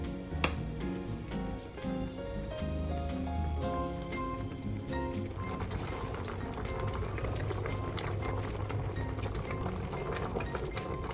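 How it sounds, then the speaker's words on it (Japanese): A pot of apricot and blueberry jam bubbles and boils at a steady simmer, soft popping over a low rumble, with a faint clink early on and gentle music underneath. "ジャムが沸騰してきたらアクが上がってくるのでアクをすくいます。"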